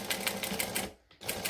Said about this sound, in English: we're going to pop it under and stitch here